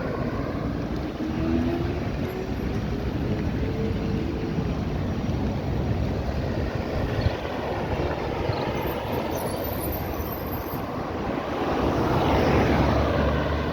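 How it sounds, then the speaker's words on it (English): A fixed-wing aircraft engine roars steadily at Grantley Adams International Airport in Barbados, a continuous broad drone that swells slightly toward the end, with no voices. "And this is the airport here, the Grantley Adams Airport."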